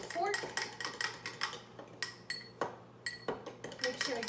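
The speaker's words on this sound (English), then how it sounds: "And I stir it up with a fork." A fork stirs a yeast and sugar mixture in a bowl for rolls, giving a steady run of quick metallic clinks and scrapes against the dish, close and fairly loud, with no talk.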